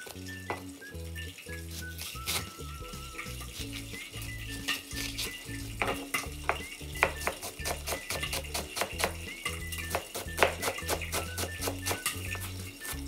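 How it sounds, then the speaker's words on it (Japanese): Green onions being finely chopped with a knife on a board, a fast, steady run of close, crisp chopping taps with a pan gently sizzling underneath. "ネギみじん切りします。"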